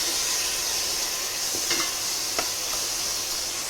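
Tomatoes cook in a pot of rasam soup with a dense, even sizzling hiss throughout, broken by a couple of faint stirring taps.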